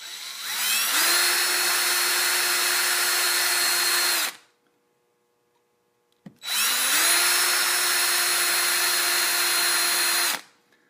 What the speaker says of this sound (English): all you got to do is just get one big enough to drill out these rivets on the bottom of this bumper